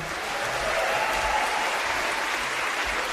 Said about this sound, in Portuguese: Uma salva de palmas para Sidmar.